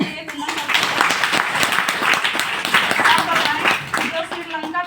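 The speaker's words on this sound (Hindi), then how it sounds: "तो जोरदार तालियां होना चाहिए।" Audience applause at a DXN business event, dense rapid clapping from a crowd that swells and holds steadily for several seconds.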